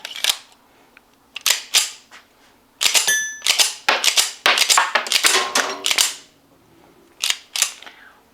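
Spent 230 grain ball cartridges from a 1911 .45 pistol eject in a quick, irregular series of sharp metallic clicks and clinks, close by and with no talking.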